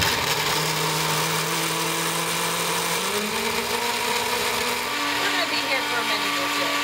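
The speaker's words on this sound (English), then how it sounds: "we're just gonna blend this guy up until it's smooth" A blender whirs loudly and continuously, purees a pasta sauce seasoned with Himalayan salt until smooth, and its motor pitch steps up partway through as the blend loosens.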